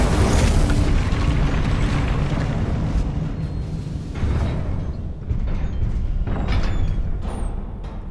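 An Incendio fire spell in Hogwarts Legacy bursts with a loud, rumbling boom that slowly decays, followed by a couple of further fiery whooshes and a lingering roar.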